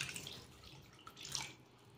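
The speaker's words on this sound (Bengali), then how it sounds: "এক বাটি জল দিয়ে দেবো।" A bowl of water goes into a pan of cooked tomato paste, making a short, soft, quiet splash and trickle.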